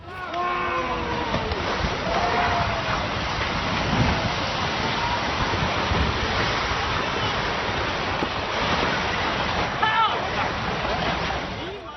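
Roaring tornado wind and heavy rain blend into a constant, loud wash of noise, with gusts swelling and fading throughout.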